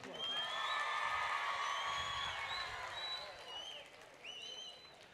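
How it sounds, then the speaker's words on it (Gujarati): Audience at a live training session breaking into loud applause with cheers and whistles, a dense wash of clapping and shouting that swells early, then tapers and rises again briefly near the end. "એકવાર જોરદાર તાળીઓ,"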